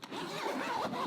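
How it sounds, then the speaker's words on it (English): A metal zipper pull slides along a water-sealed zip on a Sandmarc travel bag, one smooth rasping pull lasting about a second, close and clear with no talking. "metal zip pulls and water sealed zips that actually move really well"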